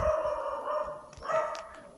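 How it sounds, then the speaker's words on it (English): Several dogs barking and yipping from a short distance in a gated area, overlapping calls rising and falling against a steady background hum. "Wow, lots of dogs."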